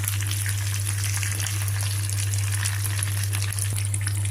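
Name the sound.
green chillies added to hot oil, frying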